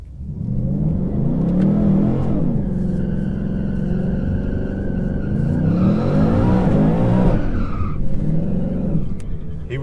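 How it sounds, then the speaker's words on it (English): A supercharged 2019 Mustang GT with an Edelbrock setup spins out on a racetrack, its engine roaring steadily while the tires skid and squeal loudly for several seconds. "That's the first time my car spun."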